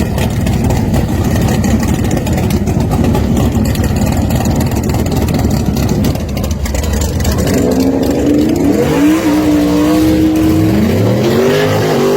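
A race car engine roars loud and steady at a dirt-track race event, its note climbing in a series of sweeping revs toward the end amid continuous crowd and track noise.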